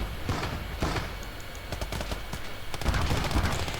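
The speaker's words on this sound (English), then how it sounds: "the artillery fight is still carrying on" Battlefield gunfire and artillery from the video game Call to Arms - Gates of Hell, a dense, continuous rattle of rapid shots and heavier booms that swells toward the end, loud and without talk.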